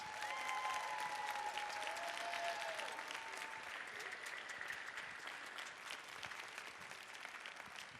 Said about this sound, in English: One more round of applause for these amazing students.